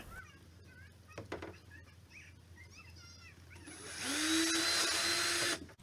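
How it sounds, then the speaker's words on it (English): A power drill boring a 1/8-inch pilot hole for a dipstick holder modification on a Cub Cadet lawn tractor whirs up loudly and runs steadily for a couple of seconds, then cuts off, after quieter clicks and faint chirping sounds. "Then I'm going to drill a 1/8 inch pilot hole."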